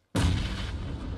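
A grenade explosion in PUBG Mobile: one sudden close blast with a heavy low boom, then a rumbling decay that fades over about a second.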